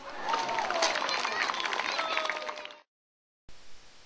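A crowd of spectators at a yabusame horseback archery ritual at a Shinto shrine's spring festival roars with loud cheering and clapping that cuts off abruptly, followed by a short gap and a faint ambient restart.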